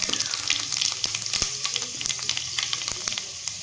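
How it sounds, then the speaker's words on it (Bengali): A bay leaf and whole panch phoron spices fry in hot mustard oil, giving a steady, close sizzle with crackles and pops throughout and no talking. "এখানে ফোড়নটা ভাজা হয়ে গেছে"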